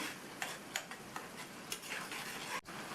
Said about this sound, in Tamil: இப்போ சட்னி நல்லா கொதிக்க ஆரம்பிச்சிருச்சு.